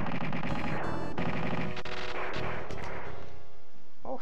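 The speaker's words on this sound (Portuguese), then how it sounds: "Olha que maravilha esse tiro." Weapon fire from the SNES shooter Super Earth Defense Force, loud rapid bursts of retro game shots layered into a dense, continuous barrage that thins out toward the end.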